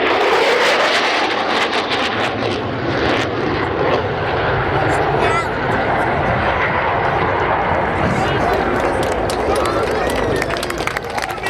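A jet fighter making a fast final pass at an airshow, its loud roaring rush dominating the whole stretch, with faint crowd sound and a voice commenting underneath.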